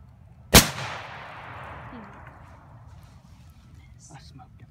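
A single loud rifle shot fired at a deer during a Georgia hunt, a sharp crack followed by a long rolling echo that fades through the woods, with no other sounds after it.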